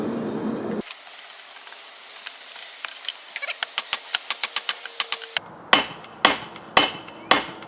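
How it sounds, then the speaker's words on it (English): A hammer forges a damascus steel billet with a steady run of sharp metallic blows, then a few heavier, slower strikes ring out, close and loud with no talking. "Probably hitting it too hard instead of just letting the hammer do the work."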